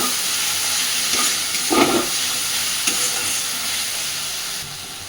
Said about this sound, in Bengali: মশলা থেকে তেল ছাড়া পর্যন্ত সুন্দরভাবে মশলাটাকে কষতে থাকবে।